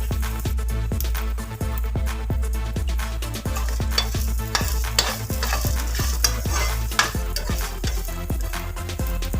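Grated coconut sizzles steadily in a hot pan for coriander-leaf thuvaiyal while a utensil scrapes and stirs it in a quick, regular rhythm, close and loud with no talking.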